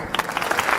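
Clapping from an audience at a talk, a brief burst of scattered hand claps that swells slightly toward the end, moderately loud.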